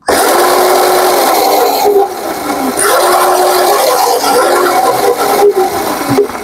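A remote-controlled electric scooter's motor running, a loud close buzzing whine with wavering pitch and brief dips as the speed shifts, continuous for several seconds with no talking.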